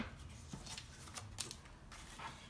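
Scissors snip through ribbon while a Christmas wreath is being made, a few short crisp cuts standing out close by against a quiet background.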